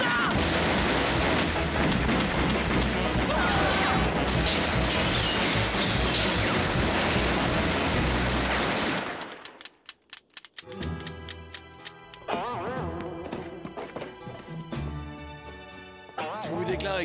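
Cartoon bandits firing wildly in the Old West: a long, loud, dense barrage of overlapping gunshots, then a pause followed by scattered individual shots and crashes.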